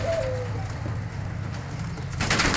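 Pigeons coo at a pigeon sale in Faisalabad, a low throaty cooing that carries on steadily through the moment, close by over a faint background murmur.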